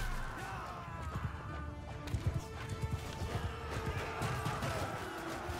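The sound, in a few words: horse galloping in video game Mount & Blade 2 Bannerlord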